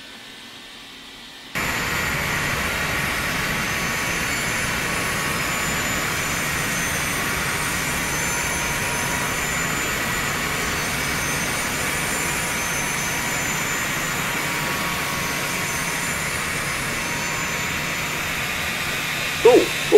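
The jet engine of a simulated Douglas X-3 Stiletto in the X-Plane flight simulator starts abruptly after a quiet moment, then roars as a steady, loud hiss-like rush for a long stretch, with a brief blip at the close.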